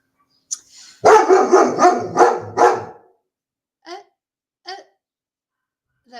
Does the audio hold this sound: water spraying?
no